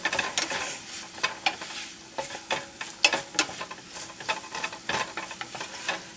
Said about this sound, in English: you don't need to saute this for long